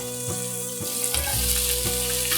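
Bean sprouts and celery stir-fry in an oiled pan with a constant hissing sizzle, broken by about five soft thumps as the vegetables are tossed and the sizzle swells slightly midway.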